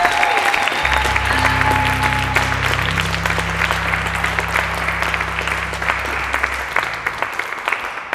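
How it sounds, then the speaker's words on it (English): A theatre audience at an open-stage show applauds and cheers for the tech crew, producing a dense wall of clapping with some whoops, loud and sustained throughout, with a low tonal hum beneath for much of it. "Please give a cheer for our tech crew."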